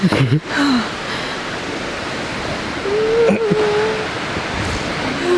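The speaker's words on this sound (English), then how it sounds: "This is one of the most beautiful waterfalls." A steady, loud rushing roar of an Icelandic waterfall, seen from high near the edge, runs throughout, with brief wind buffets and a faint voice underneath.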